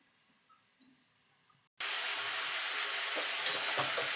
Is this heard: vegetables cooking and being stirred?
yes